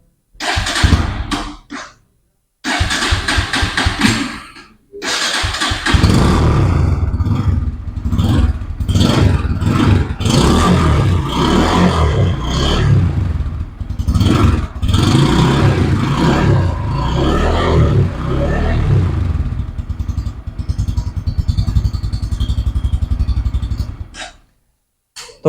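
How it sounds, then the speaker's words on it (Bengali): A Bajaj Pulsar N160 motorcycle with an underbelly exhaust starts after brief clatter and short bursts, then idles and revs steadily at close range, loud and continuous for about twenty seconds before cutting off. "তো এই হচ্ছে এটার ইঞ্জিনের সাউন্ড"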